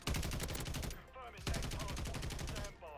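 Sustained rapid automatic fire from the TAQ Evolvere light machine gun in Modern Warfare III, loud and close, in dense repeating bursts with a short break partway through and a voice briefly talking over it.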